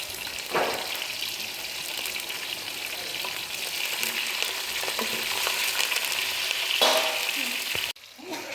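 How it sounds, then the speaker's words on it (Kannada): A curry-leaf tempering for curd rice sizzles loudly and continuously in hot oil, with bursts of crackling spitting, then cuts off sharply near the end. "ಇದಿಷ್ಟು ಒಗ್ಗರಣೆ ರೆಡಿ ಮಾಡಿಕೊಂಡು ನಾವು ಮೊಸರನ್ನದಲ್ಲಿ ಹಾಕೋಬಿಡೋಣ"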